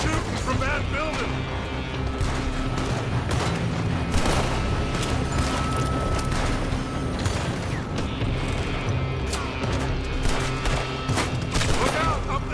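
Sustained gunfire in the Red Dead Redemption 2 game, with rapid overlapping shots and loud cracks running throughout under near-constant talk.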